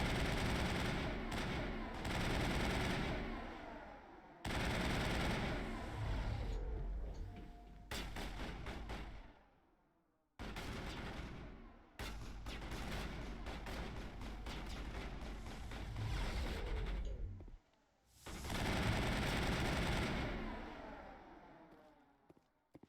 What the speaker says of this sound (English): I'll just switch to my assault rifle real quick.